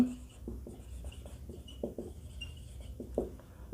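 Chalk or marker writing an equation for strain on a board during a physics lesson, a close run of short scratchy taps and strokes repeating unevenly over a low steady room hum.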